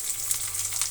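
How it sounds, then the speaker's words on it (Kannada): Onions and curry leaves frying in a pan of oil for a large batch of egg sambar tempering, a dense close crackling sizzle that holds steady throughout. "ಇಷ್ಟೂ ಫ್ರೈ ಆಗಲಿ, ಚೆನ್ನಾಗಿ ಫ್ರೈ ಆಗಬೇಕು."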